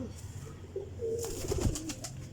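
Golden high-flying pigeons give a soft low coo, faint and brief against a quiet background.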